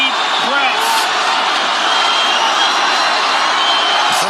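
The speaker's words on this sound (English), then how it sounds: "Crowd goes bananas as McGregor gets upright" A dense, loud arena crowd roars and cheers steadily at the Khabib vs McGregor UFC fight, with brief whoops rising above the din.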